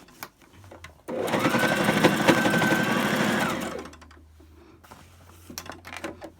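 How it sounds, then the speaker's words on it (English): A sewing machine stitches pieces of a tote bag together in one steady, close whirring run of about two and a half seconds, then stops, leaving quiet handling noises. "Let me sew the other parts."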